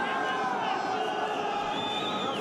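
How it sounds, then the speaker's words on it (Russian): Arena crowd at a fight with Tajik fighter Nurullo Aliev in Moscow, a dense, steady roar of cheering and applause filling the hall under a commentator's voice. "Буквально каждое удачное действие Нурулло зал встречает аплодисментами."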